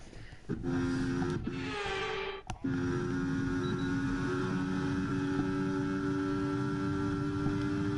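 Race car engines in the F1 24 video game, a loud, sustained whine of Ferrari-powered cars with sharp gear-shift breaks and rising pitch sweeps early on, then a steady high drone.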